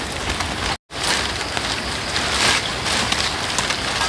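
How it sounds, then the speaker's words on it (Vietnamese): Steady rain falling outdoors, a dense hiss of drops that continues without a break, close and moderately loud apart from a brief cut near the start. "Trời mưa thế này"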